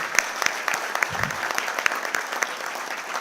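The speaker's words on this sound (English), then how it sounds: "let's come together in a resounding round of applause to celebrate the incredible achievements of our graduates." An audience at a university convocation applauds the graduates, a continuous patter of many hands clapping at moderate loudness with a few sharper individual claps standing out.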